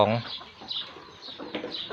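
A six-month-old F2 crossbreed fighting rooster with a long tail gives a short, close call resembling a jungle fowl's, followed by softer clucking sounds.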